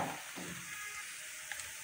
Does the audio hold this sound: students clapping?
no